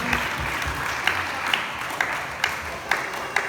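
A crowd claps at a church crusade altar call in Luna, La Union, a dense steady applause with sharper individual claps, fairly close and sustained throughout.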